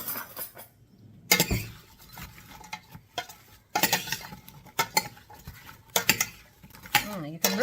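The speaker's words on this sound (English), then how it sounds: "now I'm going to take a spoon and mix things around" A spoon stirs sliced apples with cinnamon and Fireball whiskey in a baking dish for an apple cobbler, making irregular scraping and clinking against the dish while a person talks over it.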